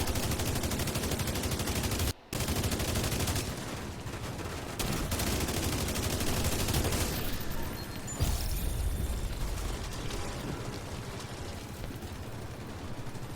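Sustained rapid gunfire fills a video game raid boss fight against the Weasel in Dark Hours, loud and dense with overlapping bursts, a brief break near two seconds, then continuous shooting throughout.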